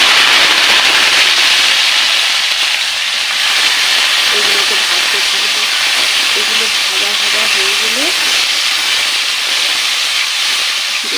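Carrots, capsicum, potatoes and green chillies fry in a pan with a loud, steady hiss and sizzle that runs throughout, with a voice talking faintly underneath.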